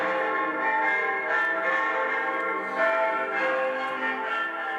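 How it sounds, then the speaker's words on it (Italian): Church bells ring festively in a dense, overlapping peal at a funeral, loud and steady throughout with rich sustained tones and no voices. "Le campane suonano a festa"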